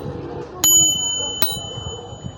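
A bicycle bell on a second-hand bike rings twice, two sharp bright dings about a second apart over a low murmur of voices nearby.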